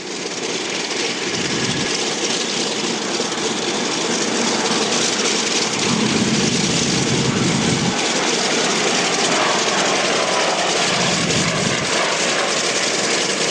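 Yak propeller aircraft at the Duxford Flying Legends air show in 2001 produce a loud, continuous engine roar that holds steady throughout, heard outdoors with no speech.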